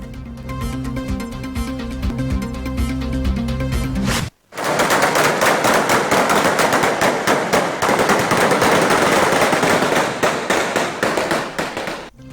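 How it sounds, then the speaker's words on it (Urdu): Gunfire near polling stations in Daska, Pakistan, on a by-election day: a short musical sting, a brief silence, then a long, loud, dense burst of rapid crackling shots. "ڈسکا میں 5 مقامات پر قائم پولنگ اسٹیشنز کے قریب نامعلوم افراد کی فائرنگ"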